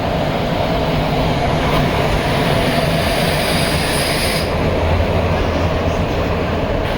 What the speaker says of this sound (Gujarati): છુક છુક ગાડી આવી ગઈ છે અમારી.